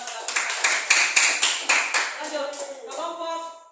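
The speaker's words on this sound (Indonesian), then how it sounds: "tepuk tangan untuk kelompok 1 karena sudah melakukan" Classroom group applause for group 1: a burst of many hands clapping in quick, dense rhythm, steady at first and then thinning out as the clapping fades, with some voices mixed in.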